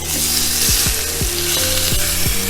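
Thin steaks searing in lots of neutral oil, a loud continuous sizzle and crackle that fills the pan, with a few repeated metallic scraping sounds rising over it.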